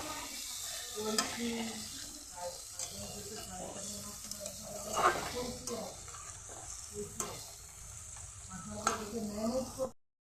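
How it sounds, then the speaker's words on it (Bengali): Bengali lentil dhoka cakes and potatoes are stirred with spices in a pan, giving a continuous sizzle with repeated scraping stir strokes, close and fairly loud. "মশলার সাথে ডালের ধোকা আর আলু ভালো করে মিশিয়ে নিলাম।"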